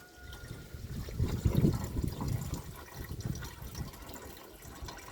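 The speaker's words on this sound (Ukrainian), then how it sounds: "Лійка і сюди наливаю." Water poured from a watering can into a garden sprayer, filling it with a homemade aphid remedy: a low, splashing gurgle that swells for a couple of seconds, then settles into a softer trickle, fairly close and moderately quiet.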